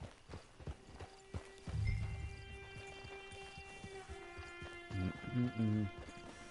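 Horse hooves clip-clop in a slow, uneven rhythm in Red Dead Redemption 2 as the horse is hitched at camp, with a soft whinny partway through and light game music tones behind.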